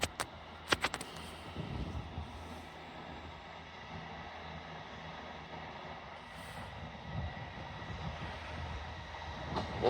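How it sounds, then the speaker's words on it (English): A Northern train service pulls away from York station bound for Hull, a steady low rumble of engine and wheels filling the platform, with a few sharp clanks early on and the noise swelling again near the end. "Departed now is your 11:45 Northern train service to Hull."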